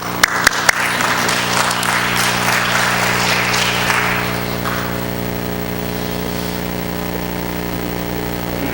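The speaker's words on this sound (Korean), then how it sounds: "우리 힘차게 하나님께 영광의 박수를 올려드리고" A church congregation breaks into a burst of loud applause after a few sharp claps, the clapping fading after several seconds and leaving a steady low hum.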